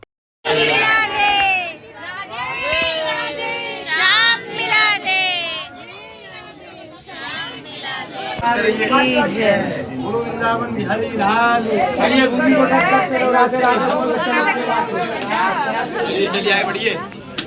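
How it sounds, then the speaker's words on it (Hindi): A dense crowd at Nidhivan temple in Vrindavan fills the air with continuous loud chatter, many overlapping voices and occasional children's shouts, growing busier and fuller partway through. "और बहुत ज़्यादा भीड़ थी निधि वन में भी"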